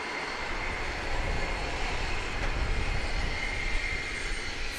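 Cayman Airways airliner at Grand Cayman airport, a steady broadband engine roar holding level throughout, fairly close and continuous with no voices over it.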